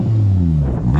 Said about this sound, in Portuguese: E esse motor é 5 cilindros